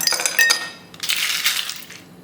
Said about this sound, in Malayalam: ഗ്ലാസ്സിലേക്ക് ഐസ് ക്യൂബ് ഇട്ട് കൊടുക്കാം.